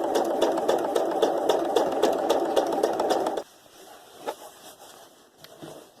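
A sewing machine stitching fabric scraps for quilting, a rapid even mechanical whirring for about three seconds that then stops, leaving faint handling clicks and rustles.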